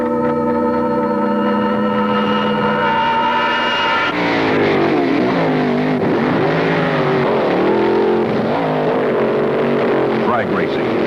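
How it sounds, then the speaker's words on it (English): Front engine dragsters racing at the 1969 NHRA US Nationals on film, a loud, sustained engine roar with a steady harmonic whine that breaks into surging, wavering revs, with a voice talking over it. "Two cars dice for a quarter mile."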